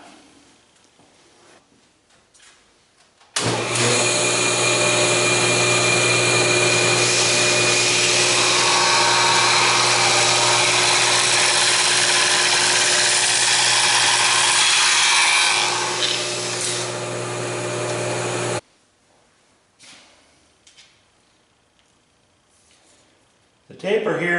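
Table saw fitted with a barrel taper tool tapering a shaft: the saw starts abruptly, then holds a loud, steady, whining cut for about fifteen seconds before cutting off, with quiet room noise on either side.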